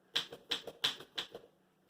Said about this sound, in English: he's using an old-timey typewriter